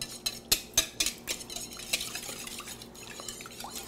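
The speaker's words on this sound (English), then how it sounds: "I'm gonna give that a little whisk just to get those eggs broken up" Three extra-large room-temperature eggs whisked briskly in a bowl, a run of quick clinking strokes that are loudest at first and then settle into softer, steady beating, close by with no talk.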